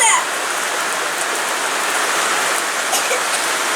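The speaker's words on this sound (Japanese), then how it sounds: "びちょびちょ雨降ってんのに" Heavy downpour pours steadily onto a home backyard during a thunderstorm, a dense, constant hiss of rain on surfaces filling the whole clip at close range, with no voices over it.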